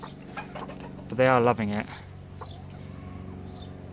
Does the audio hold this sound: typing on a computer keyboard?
no